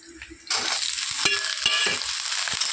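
Potato pieces drop into a pan of frying onions and green chilies, the quiet start bursting into a loud sizzle, followed by several scraping stirs of a spatula.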